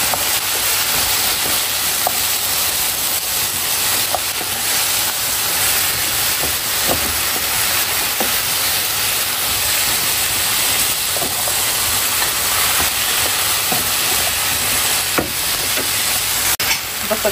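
Yellow zucchini and chopped garlic fry together in a pan, giving a steady, close sizzle and hiss for the whole stretch, with occasional light clicks of stirring.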